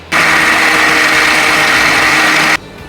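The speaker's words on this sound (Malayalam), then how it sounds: "ഇവിടെ ഒഴിച്ചങ്ങ് അരയ്ക്കും." Wet grinder or mixer grinding batter for Kerala appam, a loud, steady motor whine and whir that starts abruptly and cuts off after about two and a half seconds.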